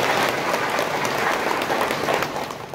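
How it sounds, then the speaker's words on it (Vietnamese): A church congregation at a patronal feast Mass breaks into sustained, dense applause, loud and steady throughout before easing slightly at the end. "Để xin cộng đoàn chúng ta vỗ một tràng vỗ tay thật lớn"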